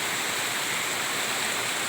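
Water flows steadily and continuously at a cross-shaped holy water site in the Dinagat Islands, a close, even rushing wash with no breaks.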